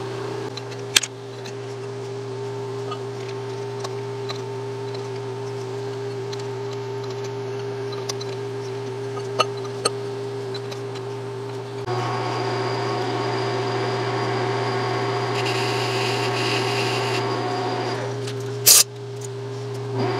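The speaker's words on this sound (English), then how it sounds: "And then I'll flip it and bore and face that bushing" A lathe bores and faces a bushing in a damaged 4L80E transmission clutch drum, with a continuous machine hum that turns rougher and louder partway through, plus a few sharp clicks.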